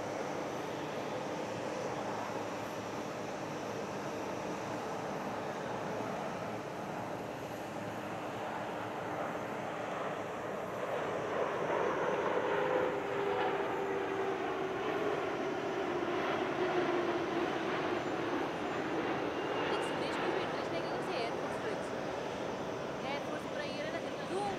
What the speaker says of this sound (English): This was the final display flight of his career, and he ends with a very impressive wing over at 88 degrees of bank.